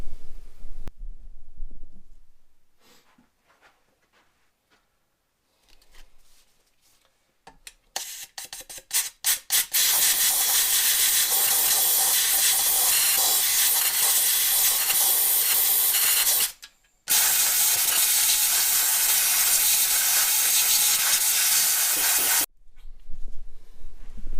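Compressed air blasts grit out of a Cockshutt 90 tractor cylinder head tipped on its side: a few short hisses, then a long loud continuous rush, a brief cut, and another sustained blast before stopping.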